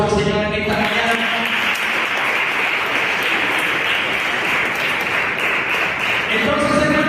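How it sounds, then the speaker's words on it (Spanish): Church congregation applauding during a Sunday school service, sustained dense clapping from a crowd throughout, fairly loud and steady, with tonal voices or music faintly at the start and end. "Denle un aplauso al Señor en esta mañana."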